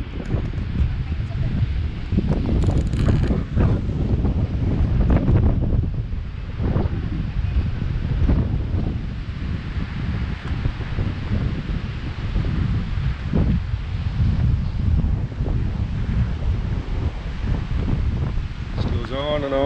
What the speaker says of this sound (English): Wee bit windy.